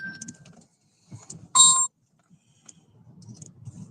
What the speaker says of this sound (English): So I turn off the alarm and then immediately another one goes off.